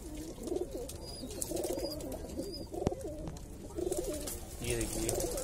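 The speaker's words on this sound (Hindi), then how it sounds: "ये देखिए दो कबूतर अभी उड़ गए हैं" Several Indian high flyer pigeons coo in soft, repeated rolling calls against faint background noise, with an occasional light click or tap.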